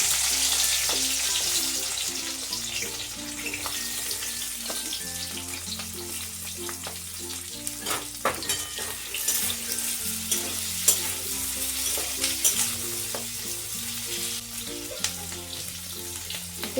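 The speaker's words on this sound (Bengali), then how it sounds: "এবার ওই তেলের মধ্যেই আমি ক্যাপসিকামের টুকরোগুলোকে ভেজে নেব।" Capsicum pieces fry in oil in a pan for a vegetarian capsicum paneer dish, a steady close sizzle broken by repeated scraping and stirring clatter from a spatula, with no voices.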